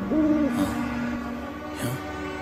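An owl hoots twice in a short film, the first a clear, steady call repeated close by, the second a brief lower hoot after a pause, over a faint quiet background without talk.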